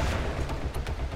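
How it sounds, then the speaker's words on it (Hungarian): An explosion in the co-op zombie game Dying Light: a loud, heavy boom with rumbling low-end crackle filling the whole short moment, close and dominant. "Rám robbant egy szart."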